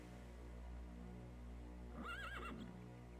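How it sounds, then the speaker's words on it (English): A horse whinnies once, loud and clear, partway through, over a steady low ambient hum in the open world of Daggerfall Unity. "And again, more horses."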